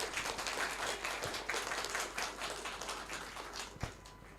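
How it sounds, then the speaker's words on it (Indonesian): Graduates and guests at a graduation ceremony give a round of applause, a fairly faint, steady patter of many hands clapping heard from a distance in a hall, with no speech over it. "boleh Bapak dan Ibu para wisudawan untuk memberikan tepuk tangan yang meriah"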